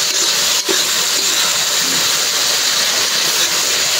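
Lentil dal being fried bhuna-style in a pan, a loud, steady, close sizzling hiss that holds for a few seconds.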